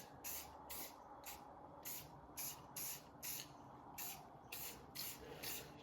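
Spray paint can hissing onto a metal standoff bracket in short repeated bursts, about a dozen quick sprays at a steady rhythm, fairly faint and close, with no talking.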